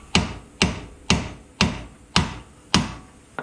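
Hammer striking the top of a bolt with its nut threaded on, seven sharp metallic blows at an even, deliberate pace, close and alone.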